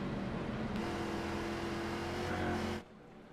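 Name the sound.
race car engines running under caution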